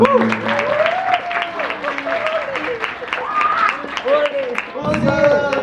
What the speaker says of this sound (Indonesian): Boleh nggak kasih tepuk tangan?